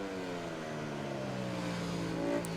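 Racing motorcycle engines from MotoGP 19 at Assen whine steadily, with pitch climbing as the bikes accelerate together in a close pack, continuous and without speech.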